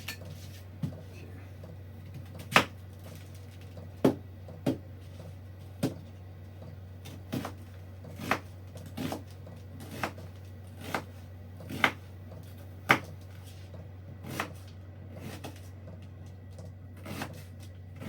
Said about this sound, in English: Chopping up the onion.